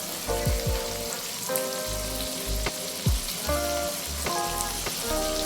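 Ghee heating in a pan for egg keema gives off a steady close sizzle with popping crackles and short bursts throughout, no voices over it.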